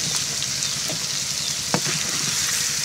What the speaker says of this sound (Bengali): এরপরে চিংড়ি মাছগুলো খুব ভালোভাবে ভেজে একদম লাল লাল করে।